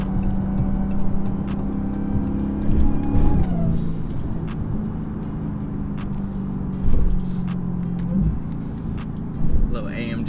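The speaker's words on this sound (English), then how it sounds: "Little AMG in front of me, trying to take off on me." A Mercedes AMG accelerates on the road just ahead, its engine rising in pitch and surging in bursts, with heavy road and cabin noise and a voice talking over it.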